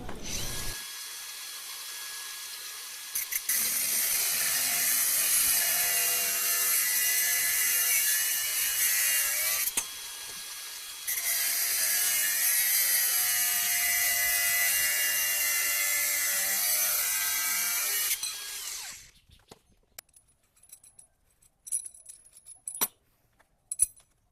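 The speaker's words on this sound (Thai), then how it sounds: "ก็ใช้เป็นเครื่องเจียนะครับ แล้วก็ใส่ใบตัดตัดเข้าไปได้เลย" An angle grinder fitted with a cutting disc slices through a steel stud in two long, loud bursts with a short pause between, then winds down, followed by a few faint clicks and handling noises.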